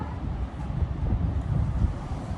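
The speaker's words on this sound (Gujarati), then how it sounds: "કેવો મસ્ત પવન આવે છે" Wind buffets the microphone with a steady low rumble and gusty roar, constant throughout with no other clear sounds.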